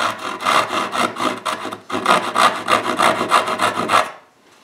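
A joinery saw cuts by hand into a wooden tool box piece, sawing down toward a marked line with steady, close, rhythmic back-and-forth strokes. It pauses briefly partway through, then carries on before stopping.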